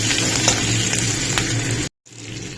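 Chilli chicken is stir-fried in a pan with a loud, close sizzle and light scraping, then a brief drop to silence before a quieter stretch of frying resumes.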